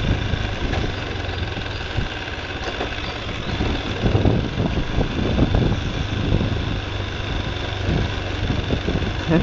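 A motorcycle engine idles steadily nearby in a street setting, a continuous low rumble holding throughout with light background noise and no clear talk.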